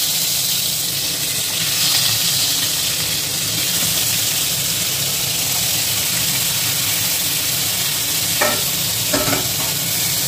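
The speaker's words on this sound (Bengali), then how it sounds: "তেলের মধ্যে আমি মাছগুলো আস্তে আস্তে দিয়ে দেবো।" Prawns frying in a little oil in a wok, a constant loud sizzle and hiss with a few brief clinks of a utensil near the end.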